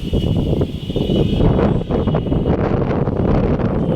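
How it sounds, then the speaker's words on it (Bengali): Strong wind buffets and roars continuously, loud and close, with gusty rumbling throughout. "হাওয়া"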